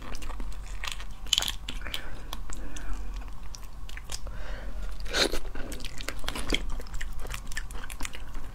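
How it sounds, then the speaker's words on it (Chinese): Crunchy shrimp bitten and chewed close to the mic, with sharp crackling bites near the start and middle followed by steady wet munching, no talking. "这虾吃的稀碎"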